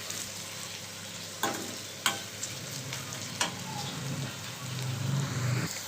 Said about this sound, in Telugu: కొంచెం మీడియం ఫ్లేమ్లోనే పెట్టి వేయించుకోవాలండి బాగా.